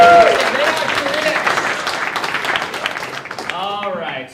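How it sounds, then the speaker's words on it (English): A comedy club audience at The Bird Comedy Theater bursts into dense applause that swells at once and slowly tapers over a few seconds, with a comedian's voice heard briefly at the start and end. "Give her a round of applause."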